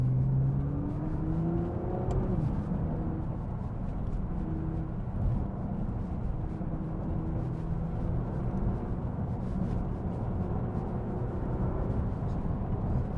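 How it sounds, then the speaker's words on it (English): A Nissan GT-R R35 sports car engine drones steadily from inside the cabin, with gear shifts and revs rising and falling, and a faint voice underneath. "So, let's see what the GT-R can do."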